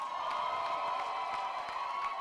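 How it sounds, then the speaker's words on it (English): A crowd at a university graduation ceremony cheers and claps in a steady, continuous wash of applause, heard at a moderate distance with scattered sharper claps and whoops throughout. "Come on, that's not enough. Let's give a powerful round of applause to our parents."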